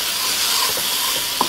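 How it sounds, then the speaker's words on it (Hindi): Kadai masala frying and being stirred in a pan with a spoon of ghee, giving a steady close sizzle with soft scraping strokes and one brief sharper clink near the end. "इस मसाले को बस 3 से 4 मिनट हमें भुनना है"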